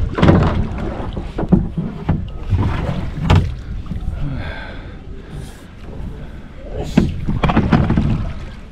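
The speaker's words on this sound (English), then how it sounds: "We're kayaking in the Everglades." Kayak paddling through water in the Everglades, with irregular splashes and paddle strokes close by, a few soft voice sounds and breaths mixed in.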